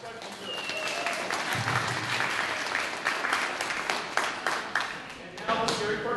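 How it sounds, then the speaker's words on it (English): Concert audience applauding steadily at a Martin Luther King Jr. winter concert, dense clapping from a crowd that stays fairly loud and continuous throughout, with a few sharper claps and some voices mixed in. "give them another round of applause"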